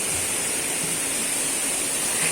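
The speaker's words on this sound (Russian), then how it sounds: "Спустились мы на водопад Сукель-Набывківський." The wide, cascading Sukel waterfall in the Skole Beskids pours with a dense, steady hiss of rushing water, close and constant.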